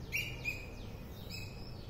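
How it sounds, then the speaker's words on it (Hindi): A black bulbul chirps outdoors, a few quick high descending whistled calls spaced through the stretch over a steady background hiss, moderately distant and with no talking. "देखिए वही काली काली सी बुलबुल है"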